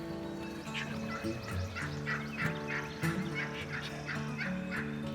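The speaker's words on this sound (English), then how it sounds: "the turkeys were not wasting any time gobbling and making their way to the field" Wild turkeys gobble on a morning turkey hunt as they make their way to a field on Delmarva, with repeated rattling gobbles rolling out one after another at a moderate distance over steady outdoor ambience.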